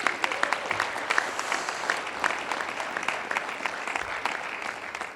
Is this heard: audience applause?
yes